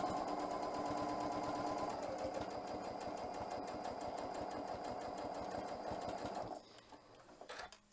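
A sewing machine stitches fabric around a curve in one close, steady whir of fast needle strokes lasting several seconds. Near the end it slows and stops, leaving a few soft clicks.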